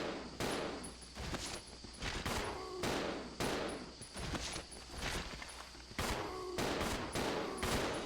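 Repeated gunfire in the video game Resident Evil 0, sharp shots landing every half second or so in an uneven rhythm over game ambience.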